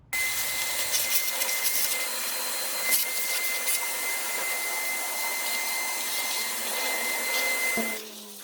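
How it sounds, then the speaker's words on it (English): Vacuum cleaner drawing dirt and debris from around a 3.6L Pentastar V6 van engine with its intake manifold openings covered, a steady close whine running for about eight seconds before cutting off. "we're going to vacuum and blow some air to get this all cleaned up"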